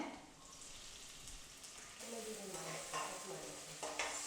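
Ginger, garlic, green chili and onion fry in a pan for masala rice, giving a steady close sizzle with soft stirring scrapes that grow busier toward the end, no voices.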